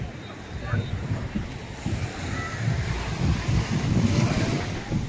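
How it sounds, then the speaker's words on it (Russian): Small sea waves wash onto the beach at Vityazevo under gusty wind buffeting the microphone, a steady low rumble with rolling surges throughout. "Волны-то сами по себе небольшие."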